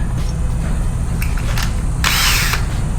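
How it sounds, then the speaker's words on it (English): A power drill bit enlarging a hole for a nutsert in the body of a Jeep Gladiator, a loud continuous whirring grind with a sharper bite of metal cutting near the end. "Got a drill that's just slightly bigger."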